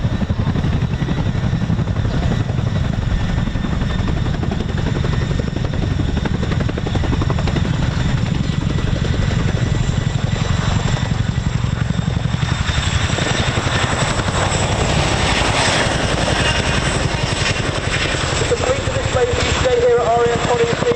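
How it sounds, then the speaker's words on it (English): A Chinook helicopter flies a display at RAF Coningsby, its steady, heavy rotor throb and turbine whine sustained for the whole span, loud and close, with a commentator talking over it. "The Chinook is the only helicopter capable of this impressive feat"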